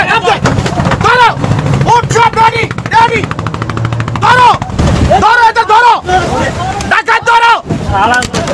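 Bursts of gunfire, loud and close, crack out in repeated volleys during an attack on a river patrol boat, with shouting voices mixed throughout.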